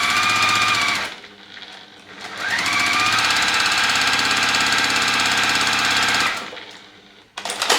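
A sewing machine stitches quilt patchwork pieces into a beginner nine-patch block, loud rapid mechanical chattering in two bursts with a brief pause between and a short stop near the end, no talking.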